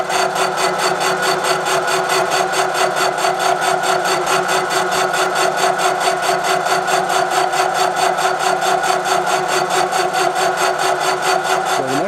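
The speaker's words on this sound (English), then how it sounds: "here's how we're going to go ahead and mill off that mounting flange." A milling machine cuts away a cracked mounting flange with a loud, continuous, steady grinding whine that holds unbroken, close up, with no talking.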